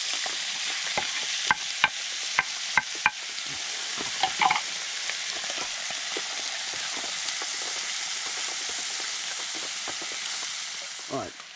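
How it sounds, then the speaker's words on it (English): Bacon sizzling and crackling in a pan over a campfire outdoors, a faint steady hiss with scattered sharp pops and a few stirring clicks. "And chuck in some bacon"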